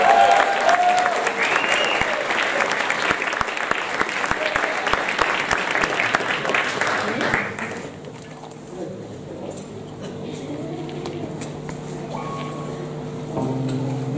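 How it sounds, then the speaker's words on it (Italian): A concert crowd gives a loud, sustained round of applause that lasts several seconds before fading, after which music starts up quietly underneath. "un applauso grosso!"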